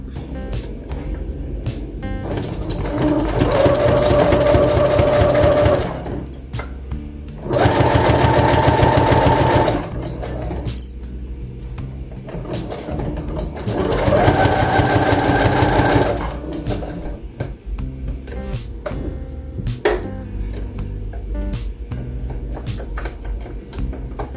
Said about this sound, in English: I'm gonna go ahead and get this top stitched, and I'm gonna add this piece on and top stitch it down as well